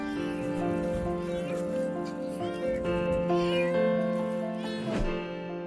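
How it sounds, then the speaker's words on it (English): A small kitten meows repeatedly in high, urgent cries, close and loud, with a few cries overlapping and building to a sharp squeal near the end. "Builders heard a kitty in distress"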